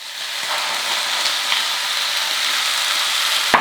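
Squid pieces hit a hot pan of vegetables and set off a steady, close sizzle, with a few light clicks of stirring and a sharp knock near the end.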